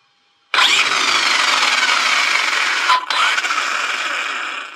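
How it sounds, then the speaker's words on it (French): The nitro engine of a Hobao Mini Croc RC car bursts into a loud, high buzzing rev that holds steady, dips briefly partway through, then carries on close by. "Le petit coup de gaz qui va bien."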